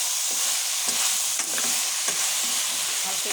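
Vegetables stir-fried in a pan, a continuous close sizzle with repeated scraping and stirring strokes of a spoon throughout.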